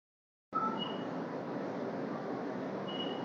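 Steady rumble of a moving Vande Bharat Express train carriage, broadband and constant after a brief silence, with faint high tones drifting in and out.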